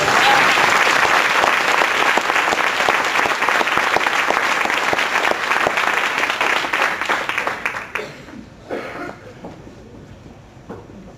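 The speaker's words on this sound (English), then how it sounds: "Could we please just have a big round of applause for everything that" An audience at a talk by domestic violence expert Lundy Bancroft bursts into loud sustained applause, dense clapping that holds for several seconds before thinning out into a few scattered claps.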